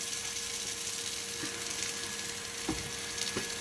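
Ginger and garlic sizzle steadily in a pan with softened onions, a close, even frying hiss that carries on alone with a few soft stirring bumps near the end.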